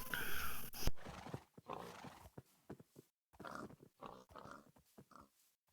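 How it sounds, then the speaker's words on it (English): Horses and pigs on a farm in the Minecraft video game, heard as clip-clop hooves, a neigh and short grunting animal calls, in choppy bursts at moderate to faint loudness. "some horses. Got some carrots planted, some cows, and pigs"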